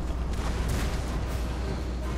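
Mortar shells exploding on a battlefield in Empire: Total War, a dense, continuous rumble of blasts and booms layered over one another, loud and sustained with no pause.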